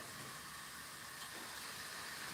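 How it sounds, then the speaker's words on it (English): Shish kebabs sizzle in a hot pan, a steady broad hiss that stays even and close for the whole stretch, with no voices over it. "So let's get these shish kebabis on the pan. Listen to that sizzle."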